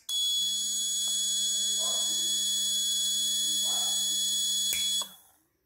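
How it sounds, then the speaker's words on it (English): An electronic fire alarm buzzer on a small fire-detection circuit with LEDs and a sprinkler pump sounds one continuous, steady, piercing tone for about five seconds, then cuts off. "If fire detected, red LED on, alarm on."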